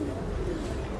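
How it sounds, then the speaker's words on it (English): Pigeons coo in a low, continuous murmur outdoors in a town setting, a soft steady burble with faint ambient background, close by and moderately loud through the whole moment. "Bit of a pigeon dance going on here."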